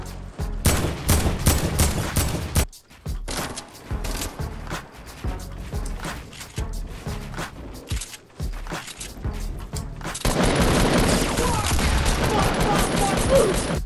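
Fortnite gameplay carries rapid bursts of gunfire in quick uneven volleys, then switches to a dense, sustained wash of noise.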